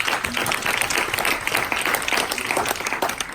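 Steady applause from a church audience at a gathering, dense clapping that fills the room evenly for several seconds without a break, no voices rising above it.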